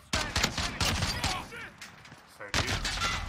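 Rifle gunfire in the Modern Warfare video game, heard as loud bursts of shots in separate clusters with short gaps, mixed with game effects.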